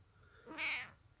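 A house cat gives one short, close meow that rises and falls over about half a second against quiet background noise.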